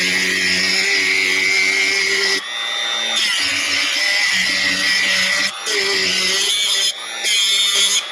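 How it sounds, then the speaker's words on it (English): A Dremel rotary tool whines at high speed while cutting a channel into a metal bolt. The cut runs in several loud bursts, broken by short pauses where the pitch drops as the tool lifts off. "Now you could have kept going across it with the Dremel, cut, cut, cut, cut"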